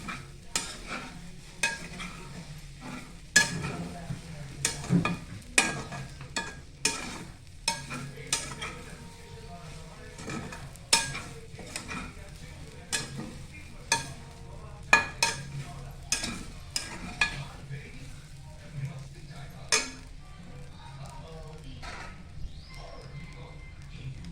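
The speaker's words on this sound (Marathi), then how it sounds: "चांगलं गरम होईपर्यंत परतवायचं" Pav upma being stirred and sautéed in a pan, with a spoon scraping and tapping the metal in frequent sharp knocks over a soft continuous sizzle, close and steady throughout.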